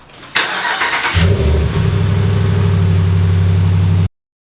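A 2019 Ram 1500 pickup truck starts with a crank and catches, then idles close by in a loud, steady rumble for several seconds before the sound cuts off abruptly.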